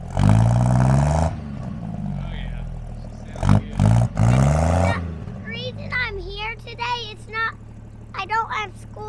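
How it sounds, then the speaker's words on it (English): A 1959 car's engine rumbles and revs with a deep, loud roar that rises and falls, then fades behind excited voices talking over the idling motor. "We'll rev it up a little bit, Jack."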